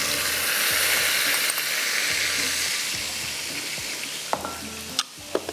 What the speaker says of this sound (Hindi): लहसुन जैसे ही फ्राई हुआ, कुटी हुई मिर्च, हल्दी, इसके बाद नमक और साथ में ये टमाटर